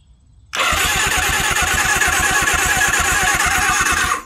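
A 1983 Suzuki GS750 motorcycle, seized up and unrun for 41 years, has its starter motor cranking the engine in a loud, close, steady rapid chugging rhythm that continues for several seconds without firing.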